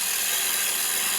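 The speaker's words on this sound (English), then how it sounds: "let's just make a very light cut" Light finishing cut on wood with a Hunter turning tool on a lathe, a brief steady hissing scrape with a dense high-pitched texture, close and continuous.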